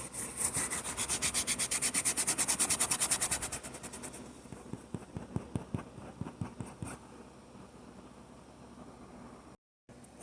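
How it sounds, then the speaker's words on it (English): A tool rubs rhythmically across the frayed edges of an artwork, first in quick, steady strokes, then in slower, separate scrapes that fade to near quiet. "I'm gonna go ahead and scrape off my edges here and find out where they're fraying"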